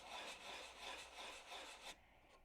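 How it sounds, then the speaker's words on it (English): Sandpaper rubs CA glue off the surface of a Tucker XL model wing in quick, rhythmic back-and-forth strokes, close and fairly quiet, stopping just before the end. "why am I sanding here?"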